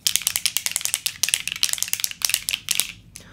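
A bottle of setting spray is shaken briskly, giving a rapid run of sharp rattling clicks in a steady rhythm, close and fairly loud, before stopping abruptly near the end.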